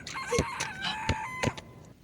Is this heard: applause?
no